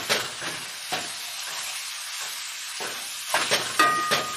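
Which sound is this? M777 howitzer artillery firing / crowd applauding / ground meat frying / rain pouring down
ground meat frying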